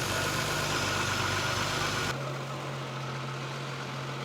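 Engine of a Triumph 2500TC idling steadily during carburettor tuning, a close, loud, even mechanical hum that drops slightly in level partway through, with no talking.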